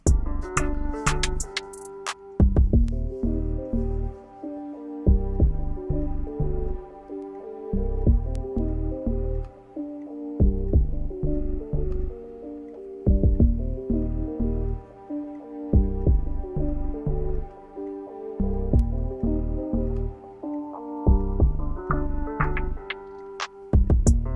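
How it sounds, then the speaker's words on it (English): A looping beat with deep thumping bass run through a low-pass filter, its highs gradually dulling and returning, sounding muffled and muted as if heard underwater in places. "it goes from sounding normal to kind of like it's underwater"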